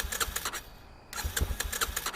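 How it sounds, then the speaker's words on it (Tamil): A vehicle engine with no petrol cranks without catching, giving two bursts of rapid, rhythmic starter churning split by a short pause. "வண்டி ஸ்டார்ட் ஆக மாட்டேங்குது."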